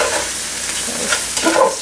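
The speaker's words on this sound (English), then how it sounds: "Stir it up." Tender cabbage is stirred in a hot pan, a brief close-up sizzle with soft scraping and shuffling as the leaves are moved around.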